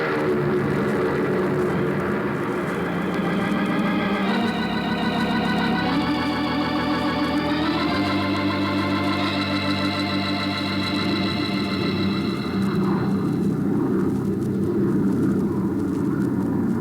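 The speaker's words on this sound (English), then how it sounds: "Ready for takeoff." An airplane taking off from a runway as a radio drama sound effect, a loud steady engine roar with shifting droning tones that swell and change pitch as it builds, continuous for the whole stretch with no talk.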